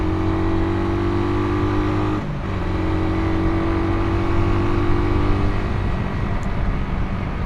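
A stock 2020 Suzuki Raider 150 carburetted motorcycle accelerates hard on a top speed run, its engine droning loud and steady with a brief dip in pitch as a gear shifts, amid wind rush.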